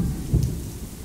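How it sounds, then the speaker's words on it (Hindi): Rain falling with a low thunder rumble outdoors, a brief dull roll over steady patter. "बारिश में हाथ करो, खुश हो रहा है।"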